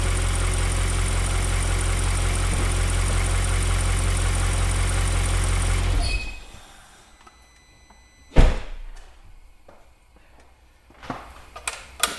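An Audi RS6 engine idling with an exhaust leak, a loud, steady low rumble for about six seconds before it shuts off, followed by quiet with a sharp bang and a few clunks nearby.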